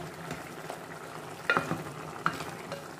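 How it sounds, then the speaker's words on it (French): Salted dried tilapia cooking in water in a pot, a low bubbling simmer with a couple of brief utensil clinks and stirring sounds nearby. "Voici mon poisson qui est en train de cuire."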